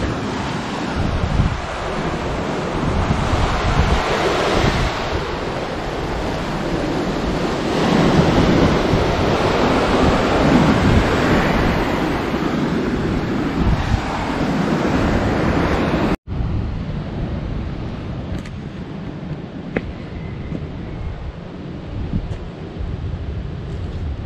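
Caribbean Sea surf and strong wind beside a seaside cemetery make a loud, continuous roar with heavy gusts buffeting the microphone; after an abrupt cut, softer wind and distant waves carry on, with no one speaking.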